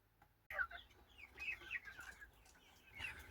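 Chicks and hens inside a brooding shed give soft, repeated clucks and high peeping calls in short bursts, fairly faint and close, with no talk.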